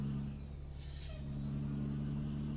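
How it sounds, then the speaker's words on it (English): Jake brake on a Freightliner truck in American Truck Simulator, a steady low droning engine rumble with a brief hiss burst in the middle, sustained throughout and fairly quiet, with no voices. "this Jake brake sounds awesome"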